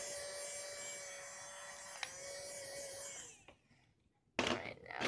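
A handheld hair dryer blows steadily at a salon for about three seconds before cutting off, followed by a brief loud burst near the end; faint talk is present.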